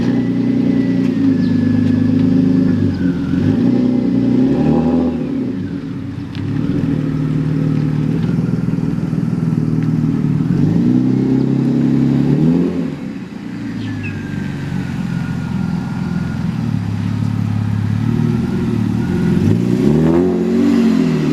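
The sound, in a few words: loud car engine revving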